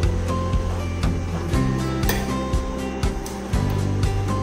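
An XD18 orbital welding torch welds a stainless steel elbow tube, with a steady loud buzzing drone marked by regular low pulses about twice a second, constant and close, with no voices.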